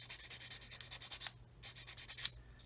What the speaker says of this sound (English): and just sand that away